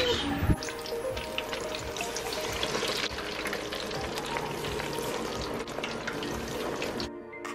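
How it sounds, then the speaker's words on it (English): Fish frying in hot oil, a steady close crackling sizzle that continues for several seconds before cutting off abruptly near the end. "I'm frying fish"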